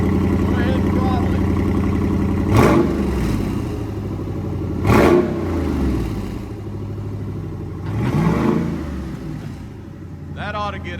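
Three sharp throttle blips ring out from a 2012 SRT Challenger with electric exhaust cutouts open, each rev spiking loudly over a rumbling idle before settling back, with a short voice near the end.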